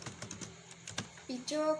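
Keys clatter on a computer keyboard as a command is typed, a quick run of separate clicks near the microphone, followed by a short burst of voice at the end.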